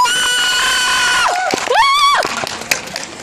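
An audience at a dance show cheers and shouts in a loud, bright crowd burst, with high voices rising and falling together over a steady background din.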